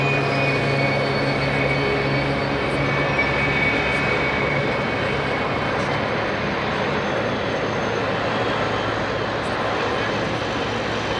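Heavy Japan Airlines jet airliner at London Heathrow on a busy evening, a loud, steady engine roar with tonal whine holding evenly throughout, close and dominant with no talk.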